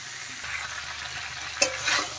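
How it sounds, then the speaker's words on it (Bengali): Potato and cauliflower florets sautéing in a pan as the base for a rohu fish curry, a soft steady sizzle with scraping stirs and one sharp clatter of utensil near the end. "এখন ভালোভাবে কষিয়ে নেব।"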